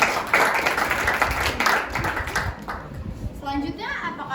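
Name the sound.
audience applause at a panel discussion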